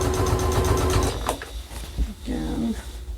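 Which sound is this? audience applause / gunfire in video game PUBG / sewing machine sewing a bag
sewing machine sewing a bag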